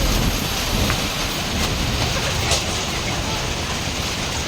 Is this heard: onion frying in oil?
no